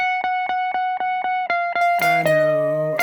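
An electric guitar riff with a wet, high-gain tone plays a run of evenly picked repeating notes, then lands on a loud sustained chord that rings out.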